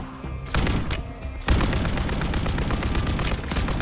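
Loud bursts of rapid gunfire in Call of Duty: Modern Warfare 3 Zombies, a short volley, a pause, then a long sustained stream of automatic shots, close and harsh, with no voices.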